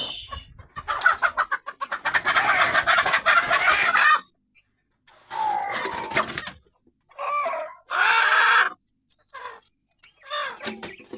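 Country chickens in a village cluck, squawk and crow loudly and close by in frantic bursts separated by short silences, as if flapping and protesting while being grabbed.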